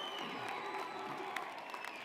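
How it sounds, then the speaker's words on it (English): A large convocation crowd of graduates at a university ceremony in Calgary cheers and applauds, a steady wash of clapping with scattered shouts carrying on without pause. "Make some noise, yell and scream, wave and cheer."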